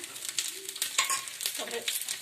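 Cumin seeds fry in hot oil with a close, crackling sizzle and a quick run of small pops that rise and fall without pause.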